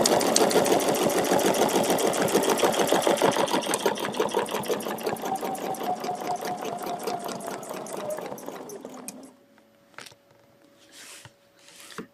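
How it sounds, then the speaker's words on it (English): A sewing machine stitches a feather plume quilting design in a fast, steady, close mechanical chatter that runs for several seconds and then stops, followed by a few soft handling clicks. "I'm going to stitch them right, left, right, left. So stitch the whole plume."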